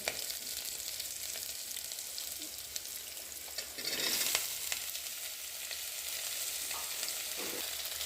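Sliced radish fries in a pan for radish chutney with a steady, fairly quiet sizzle, a louder burst of hissing as pieces go in or are tossed midway, and occasional stirring; nobody speaks.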